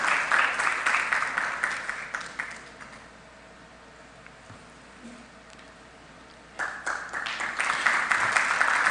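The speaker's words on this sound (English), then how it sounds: "Sister Jane, shall we welcome her with a good round of applause?" Applause rises from an audience at a world congress in Rwanda as a Catholic sister is welcomed, loud dense clapping that dies away midway, leaves a quiet lull, then surges back strongly toward the end.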